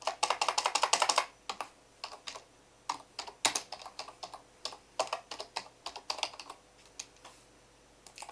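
A computer keyboard is typed on in quick bursts of close, crisp key clicks, a rapid flurry at first and then scattered taps with short pauses, no voices.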